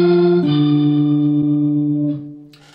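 An electric guitar processed into a Hammond organ-style tone plays a simple, sustained line of a few held notes, loud and close, with a brief note change near the start before fading out.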